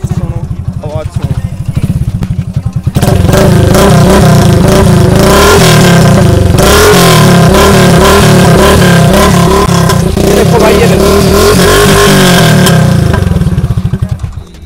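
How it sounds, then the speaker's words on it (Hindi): Hero Splendor motorcycle fitted with a free flow silencer, revving loudly and close by with a rough, throbbing exhaust note and crackling pops throughout. "आवाज ही आ रही मोटरसाइकिल में हकीकत में, और भाई पटाखे भी मार रही है"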